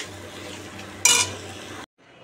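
Papaya curry stirred in a pan as a little water is added, a low sizzle broken by a short rushing splash and scrape before a sudden cut to near silence.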